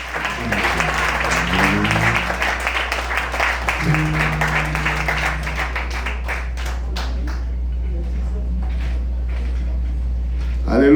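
An audience at a Christian women's church conference during Pentecost applauds with a dense, steady wash of clapping that gradually thins and fades, with a low hum from the hall's sound system underneath.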